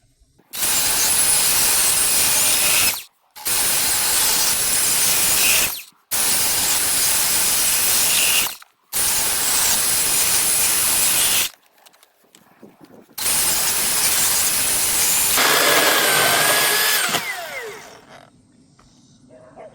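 A Milwaukee Dual M18 battery chainsaw cuts through wood on its low torque setting, four loud bursts of high whining cutting of a few seconds each separated by brief silences, then a longer final cut that winds down.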